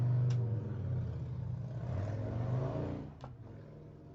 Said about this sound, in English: That's one way of starting a motorbike up.